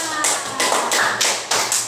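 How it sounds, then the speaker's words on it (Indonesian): A classroom group claps hands in several short bursts of applause, close and fairly loud, with a faint voice in the background. "Bagus, tepuk tangan."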